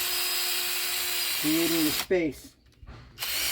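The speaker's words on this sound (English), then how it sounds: "So you got to be gentle as you're drilling through the walls," A power drill whirs briefly while drilling through the wall of a homemade lamp, close and moderately loud, under a man's speech and followed by a pause.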